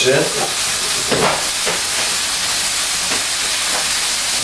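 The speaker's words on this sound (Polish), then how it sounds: "Ok, nasza patelnia się rozgrzała, więc przekładamy na nią boczek." Bacon strips sizzle and crackle steadily in a hot frying pan, a loud continuous hiss with a few brief stirring scrapes and no talk.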